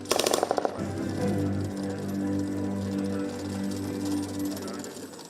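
The weapon system on an unmanned ground vehicle fires a short, sharp burst of rapid shots at a target, followed by a steady mechanical engine hum.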